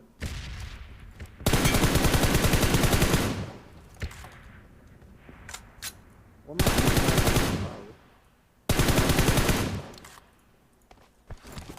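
Three long, loud bursts of rapid automatic gunfire ring out in a PUBG Mobile match, each lasting a couple of seconds, separated by quieter gaps with scattered single shots and faint footsteps.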